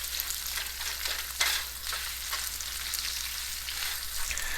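Dried chili and chickpeas sizzle steadily in a hot pan for a chickpea sundal, a dense, even crackle with faint stirring scrapes and no voices.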